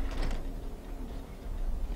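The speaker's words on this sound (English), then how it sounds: "I'm gonna open this door." A door slides open in the video game Batman: Arkham Origins, a soft whooshing swell at the start that fades into a low, rumbling game background.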